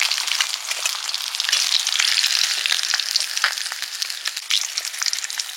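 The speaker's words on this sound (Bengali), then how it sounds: "মাছ ভাজা হয়ে গেছে" Fish pieces frying in hot oil for a Bengali fish curry, a close, dense crackling sizzle with sharp pops, steady throughout and without any speech.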